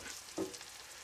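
Bacon frying in a pan over a campfire, a soft steady sizzle with one brief louder crackle partway through, close and alone.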